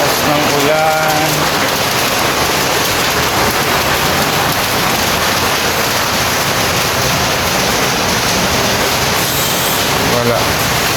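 Heavy rain pouring outdoors in a loud, steady, unbroken wash of noise for the whole stretch, with brief voices talking near the start and end.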